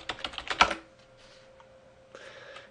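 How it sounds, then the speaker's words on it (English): A quick burst of keystrokes on a computer keyboard, several sharp close clicks in a row, then a near-silent pause and a few faint taps. "I'm just going to type in AllMyApps in Google."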